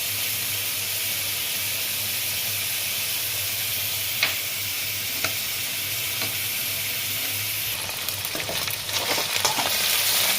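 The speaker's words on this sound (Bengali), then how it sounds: "মাংসগুলো ভাজা হয়ে গেছে" Chicken pieces fry in oil in a wok for chicken mince, producing a close, loud, unbroken hiss with a few sharp spatters and, near the end, a burst of stirring clatter.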